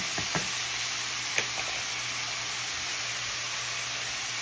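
Keema curry sizzles in a wok with a steady, bright hiss of frying, broken early on by a few quick scrapes and taps of stirring, continuous and fairly close.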